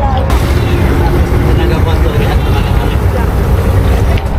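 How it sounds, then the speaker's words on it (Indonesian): Passenger ferry boat on the Limbang River, its engine droning steadily and loudly up close with wind and water noise throughout, while people talk over it. "Ah, perahu tambang."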